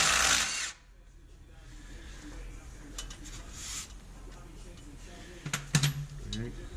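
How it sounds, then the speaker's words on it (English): A battery-powered impact wrench with a 24 mm socket hammers loose the rear differential fill plug on a 2017 Toyota Tacoma in one short, loud burst. Quieter clinks and handling noises follow. "I'm using an impact electric or battery powered impact 24 mil socket"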